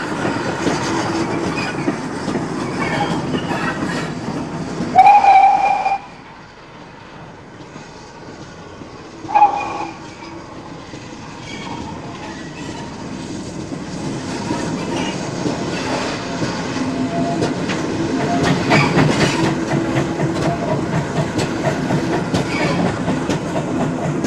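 A Great Western Railway 1466 steam tank engine runs on a preserved branch line at Didcot, a steady rolling rumble of wheels and rail clatter filling the scene, with a couple of sharper bursts early on before the noise swells again.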